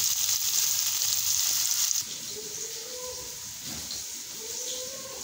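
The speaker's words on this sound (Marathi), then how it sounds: "खूप छानपैकी आपली ह्या ककड्या भाजल्या गेलेल्या आहेत." Cucumbers roasting in a hot pan give off a steady frying sizzle and hiss, louder for the first two seconds and then settling to a softer, even crackle with faint stirring.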